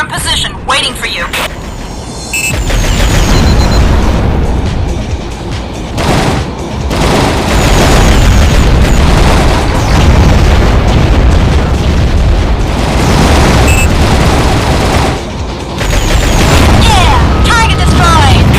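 Heavy explosion of a destroyed target in the underwater game AquaNox, loud booming blasts and rumbling bursts that continue over many seconds, with voices talking in between.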